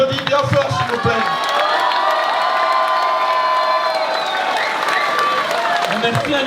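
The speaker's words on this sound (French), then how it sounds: "on l'applaudit bien fort s'il vous plaît." A crowd at the 2014 Bal des quenelles awards evening cheers and applauds a winner in the politics category, a dense, loud, sustained roar of shouts and whoops with clapping mixed in, voices throughout.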